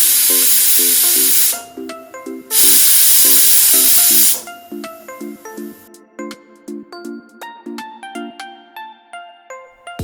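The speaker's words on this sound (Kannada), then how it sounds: "ಕುದಿ ಬರ್ತಾ ಇದೆ ಅನ್ನುವಾಗಲೇ ಕುಕ್ಕರ್ ಮುಚ್ಚಳ ಮುಚ್ಚಿ 2 ವಿಜಿಲ್ ಕೂಗ್ಸಿದ್ರೆ ಸಾಕು" A pressure cooker cooking mushroom pulao lets off two loud, long steam whistles in a row, each a strong hissing blast, separated by sputtering rattles and followed by quick rhythmic puffs of escaping steam.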